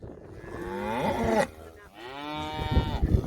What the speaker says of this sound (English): So getting them cows and calves off, sort these guys out, and here's a calf.